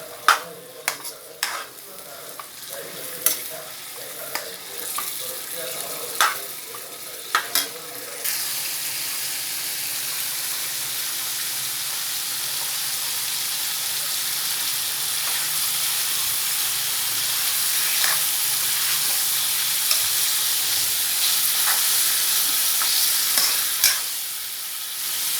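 Chicken sukka frying in a pan makes a steady, close sizzling hiss for the whole stretch, with sharp stirring scrapes and clicks in the first few seconds that give way to a dense, even fry.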